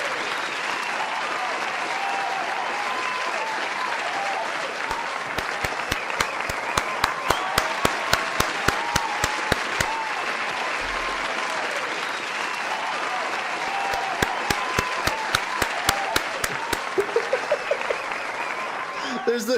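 Large crowd at a concert finale applauding and cheering steadily throughout, with bursts of sharp clapping layered over a dense roar and some talk mixed in.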